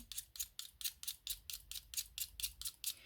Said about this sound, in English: So I will need to sharpen that. So I'm just going to do that now very, very quickly, see if I can get more of a point on it